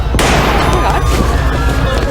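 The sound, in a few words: gunfire in a restaurant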